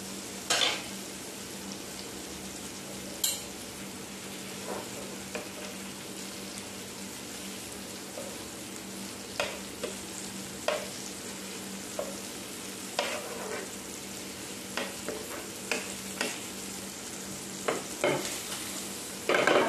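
River fish fry in a pan with a steady, close hiss of hot oil. Sharp clinks and scrapes of a utensil turning the pieces punctuate it now and then, with no voices.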